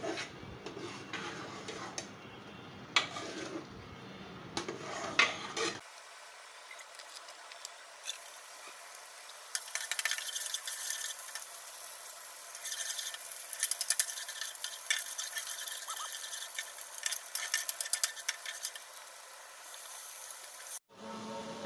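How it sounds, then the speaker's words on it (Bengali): Tempering being fried and stirred in a pan for boiled leafy greens, with a light continuous sizzle and scraping stir strokes that carry on steadily, softer at first, then busier for most of the stretch. "শাকটা সিদ্ধ হয়ে গিয়েছে, এখন বাগার দিব।"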